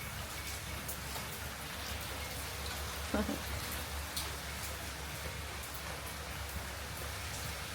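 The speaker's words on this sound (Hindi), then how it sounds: "तो भाई ये देखो बरसात, क्या मौसम है मस्त वाला, है ना।" Heavy monsoon rain falls in a steady, dense hiss of drops on surfaces, with a few brief louder knocks midway through, and it is heard on its own without talking.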